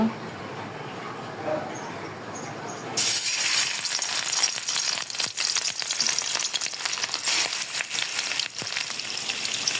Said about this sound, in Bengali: ওই তেলেই আমরা মাছগুলো ভেজে নেব